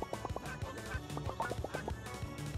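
A goose in the video game Atomic Heart gives a rapid series of nasal quacks, repeating in quick bursts over a steady droning game background, with no voices.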